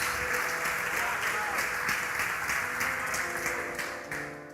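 Church congregation applauding, a dense steady wash of clapping that holds throughout and eases slightly at the end, with some voices mixed in.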